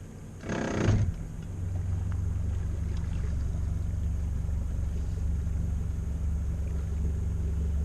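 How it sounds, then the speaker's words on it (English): A boat engine starts up with a short burst, then settles into a steady low rumbling drone that runs alone to the end. "Let me power up the engine and turn it to the left."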